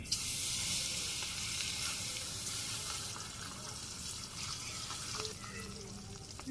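Fish pieces frying in hot oil with sesame seeds and cumin, a steady loud sizzle that stays dense and continuous throughout.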